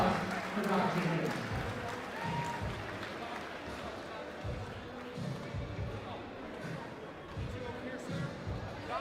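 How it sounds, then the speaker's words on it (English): A crowd at an MMA fight night applauds and cheers for Doc Jenkins, a dense and steady wash of clapping and crowd noise that holds at a fairly even level throughout. "So a big round of applause for Doc Jenkins."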